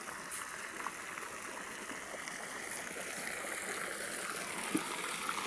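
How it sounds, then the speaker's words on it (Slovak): Water spraying and gushing in a steady broadband rush, close and continuous with no voices. "Striekala voda."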